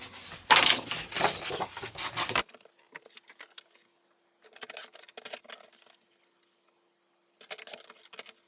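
Black cardstock being cut into pieces for handmade thank-you cards: a loud burst of close snipping and rustling, then quieter intermittent cuts and paper handling separated by short pauses.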